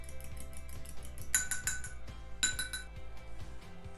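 Eggs whisked with salt in a bowl, a steady run of light clinking taps from utensil against the bowl, close and fairly quiet, with a few brighter strikes.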